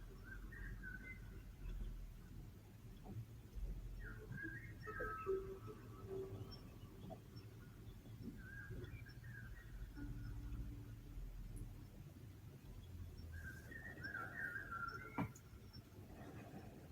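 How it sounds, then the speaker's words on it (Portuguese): Small birds chirp and sing faintly outdoors, scattered short calls coming and going over a steady low background hum. "ouvindo os passarinhos."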